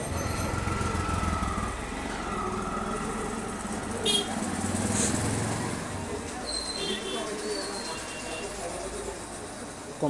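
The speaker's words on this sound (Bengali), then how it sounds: "এখন কম্প্রেসার চলতেছে" A compressor runs with a steady motor drone and hum that holds for the whole stretch, while a person talks over it.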